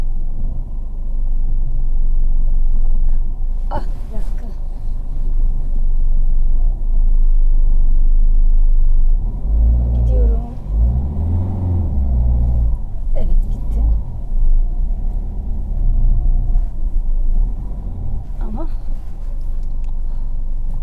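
A Ford Fiesta 1.5 TDCi with an automated clutch reverses and then pulls away. Its low engine rumble holds steady, then swells briefly as it moves off, while people talk inside the car.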